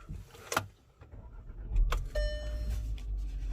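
Key start of a 2018 Volkswagen Sharan 1.4 TSI SE DSG people carrier: brief clicks and jingle of the key, a short starter crank and the petrol engine catching into a quiet steady idle, heard from inside the cabin.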